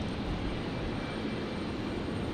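An airliner jet at Brisbane airport produces a continuous broadband roar, steady and moderately loud for the whole stretch with no voices over it.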